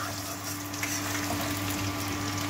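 Garlic fries in oil in a pan, making a soft, continuous sizzle with a faint steady hum underneath and no voices.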